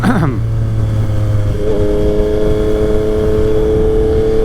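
A used Yamaha XSR 900 motorcycle ridden on a demo ride, the engine revving up early then holding a steady, loud, close drone with a whine layered over wind noise, no talking.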